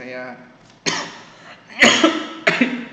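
A sudden harsh cough bursts out, followed by two more rough coughs, loud and close, with a short voiced sound before them.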